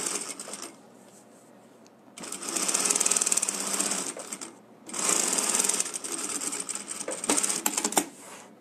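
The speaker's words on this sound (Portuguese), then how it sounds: "A gente vai bater a costurinha nele agora aqui" A sewing machine stitches a seam on a handmade wallet in two sustained bursts of rapid mechanical whirring and clatter, with quieter pauses and handling between them, close and loud.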